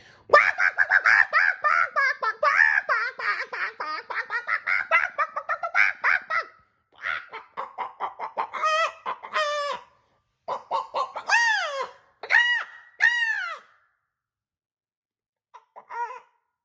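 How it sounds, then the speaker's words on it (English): Agitated squawking and clucking from several hens, loud and close, in bursts that grow sparser and trail off into silence. "This set all the hens flapping and squawking and pecking at Blinky"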